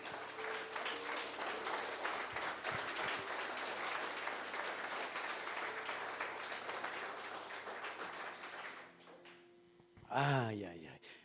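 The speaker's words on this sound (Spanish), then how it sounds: "Dale ese aplauso al Rey." A church congregation applauds loudly and steadily for several seconds during a sermon, with talk running underneath, then the clapping fades and a single voice rises briefly.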